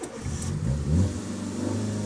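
A car engine revs up loud and close, its pitch climbing and falling through one throttle blip over a steady idle, with no voices present.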